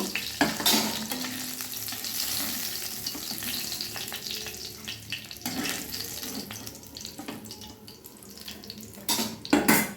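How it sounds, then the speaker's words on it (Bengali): Rui fish frying in oil in a pan, a steady close sizzle with bursts of crackle and spatter near the start and end, alongside running water and stirring clatter. "এরপরে বাকি মাছগুলো আমি ভেজে নেব"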